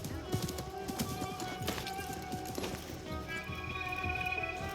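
Horse hooves clip-clop in a steady rhythm in Assassin's Creed Mirage, over a busy game soundscape with tonal music and effects.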